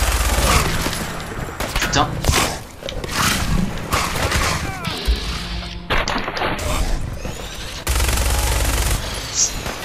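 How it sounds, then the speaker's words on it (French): Gatling gun fire in the Fallout 4 video game, dense rolling bursts of rapid shots with thuds and booms, loud and continuous, with someone talking now and then underneath. "Ça fait pas beaucoup de dégâts la Gatling."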